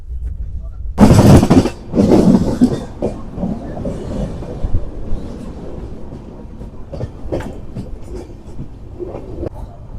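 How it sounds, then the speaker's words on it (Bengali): Kanchankanya Express rolling into Kishanganj station, a loud rushing burst early on giving way to a steady low rumble with scattered rhythmic clacks and squeaks, heard from inside the train. "আমাদের ট্রেন কিন্তু কিষানগঞ্জ স্টেশনে ঢুকে গেল।"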